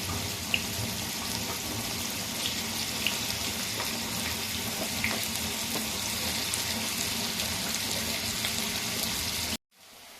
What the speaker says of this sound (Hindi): फ्राई करना है इनको हमने हल्का सा।